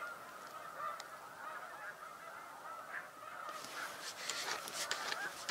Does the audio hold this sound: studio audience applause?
no